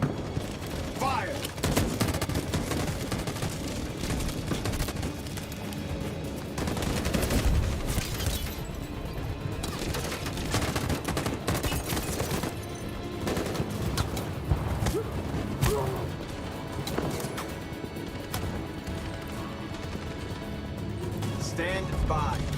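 A sustained volley of gunfire in Detroit Become Human, dense overlapping shots and bursts continuing throughout, loud and chaotic, mixed with shouting voices and game sound effects.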